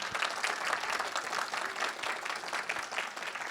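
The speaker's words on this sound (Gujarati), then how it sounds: "तालियां बजाओ तो ऐसे बजाओ कि कलाकारों को जोश आ जाए" Audience applause at a live Gujarati comedy show in America, a steady dense wash of clapping from a sizeable crowd, sustained and even throughout.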